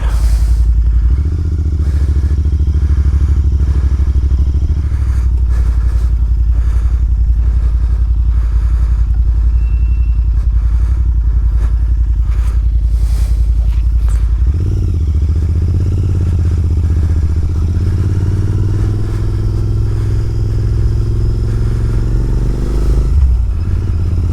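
A Royal Enfield Interceptor 650 is ridden on open moorland roads, its engine droning steadily and loudly under wind buffeting, then pitch rising as it accelerates in the second half.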